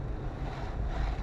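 A car heater fan blowing at full speed while the engine is still cold, driving through an ice storm: a steady, unbroken rushing roar of air, close and continuous for the whole moment, with no talking.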